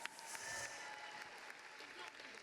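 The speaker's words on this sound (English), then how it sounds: "Round of applause." A live audience at an on-stage conversation event gives a round of applause. The clapping is steady and moderately dense throughout, with a few sharper claps standing out near the start.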